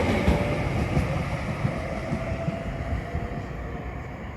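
Steady rumbling drone inside a moving Cross City Line passenger train with 2x3 seating and tables, a continuous loud rail rumble and hum with no voices.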